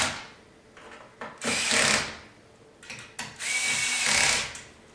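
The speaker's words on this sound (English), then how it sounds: "This screwdriver has a clutch on it that's going to keep me from over tightening." Cordless screwdriver with a clutch drives screws into a PC power supply, two loud whirring bursts separated by brief quieter clicks as the clutch slips, close by with no speech.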